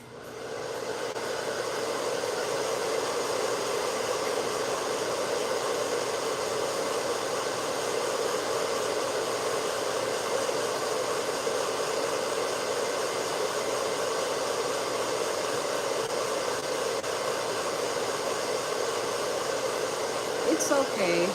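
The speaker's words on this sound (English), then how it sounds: "And I put my blow dryer on." A handheld blow dryer runs on braided cornrow hair in a home hair salon, a loud, steady whooshing roar that holds unbroken for about twenty seconds before a brief rustle at the end.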